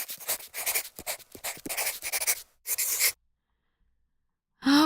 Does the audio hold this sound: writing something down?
yes